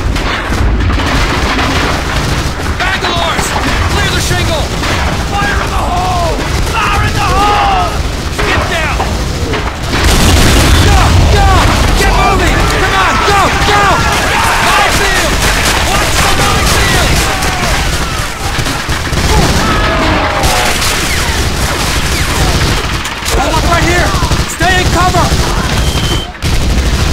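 A D-Day beach assault in the Medal of Honor: Allied Assault video game, with a dense, continuous barrage of gunfire, booming explosions and artillery, loud throughout, while soldiers shout over the battle.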